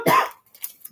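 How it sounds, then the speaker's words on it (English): A single short, harsh cough up close, followed by quiet breathy rustling. "I am coughing a little bit."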